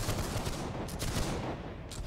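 Dense, ragged musket volley from a Napoleonic line infantry formation in Holdfast: Nations at War, a sustained rolling crackle of many shots fired together over about two seconds, loud and with no voices heard.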